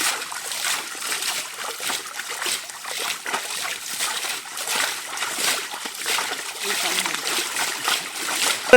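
Water is scooped and emptied out of a rocky forest pool, giving repeated close splashes and sloshing trickles in an irregular rhythm, with people talking over it.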